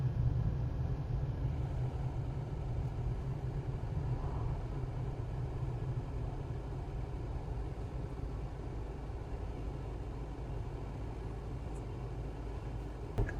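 A car coasts in neutral along the Ganga Expressway with its engine quiet. A steady low road and tyre rumble continues unchanged throughout, with no talking.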